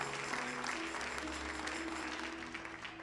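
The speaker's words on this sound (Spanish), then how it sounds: "Le damos un aplauso a Cristo." A church congregation applauding for Christ, a dense, steady clapping spread through a reverberant room over a low hum, continuing without pause.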